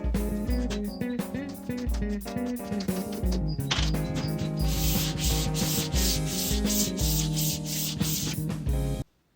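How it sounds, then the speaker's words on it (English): Steady back-and-forth rasping of sandpaper on a radius block against a guitar fretboard, rhythmic strokes up close, then stopping abruptly at the end. "I'm just going to use a radius block."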